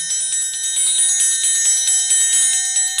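A bright metallic triangle rings repeatedly in a quick, even rhythm, loud and shimmering with long sustained overtones.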